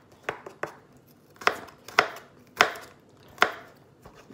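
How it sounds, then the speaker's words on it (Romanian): A knife chops garlic on a cutting board, about eight sharp, distinct strikes at an uneven rhythm, close and clear with no voices. "acum tăiem și usturoiul"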